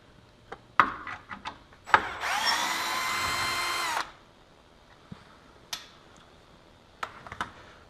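A power tool buzzes for about two seconds while backing bolts out of a RZR skid plate, with scattered metallic clicks and taps of parts being handled before and after.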